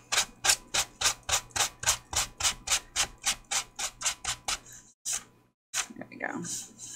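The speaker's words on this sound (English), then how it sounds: "I am sanding over the stitches." Sanding over the stitches of a handmade journal: about seventeen rapid, evenly spaced rasping strokes close up, then a brief pause and a few softer strokes as a voice speaks.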